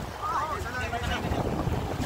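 A relief boat's engine drones as it pushes through large waves under heavy wind buffeting and the wash of water, off Brooke's Point, Palawan, with a few faint voices in the background.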